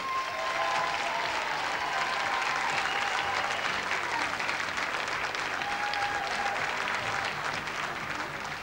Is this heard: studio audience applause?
yes